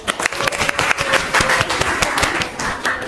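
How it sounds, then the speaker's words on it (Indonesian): Classmates clap for a student group after their presentation in a classroom, a short burst of close, uneven hand claps from a small group, fairly loud and lasting about three seconds. "tepuk tangan untuk kelompok 1"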